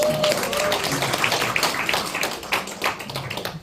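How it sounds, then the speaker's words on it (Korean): An audience claps for guests from Jinju, a dense, steady patter of many hands running for a few seconds at fairly close range. "진주에서 오셔서 박수 한번 쳐주세요"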